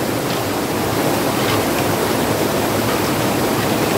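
Steady broadband wash of beach surf and waves, continuous and fairly loud with no distinct breaks, heard alone without voices.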